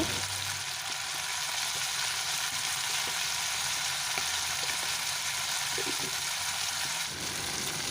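Chicken meat seasoned with salt and turmeric frying in hot oil, giving a steady close sizzle with occasional stirring clinks for several seconds, no talking.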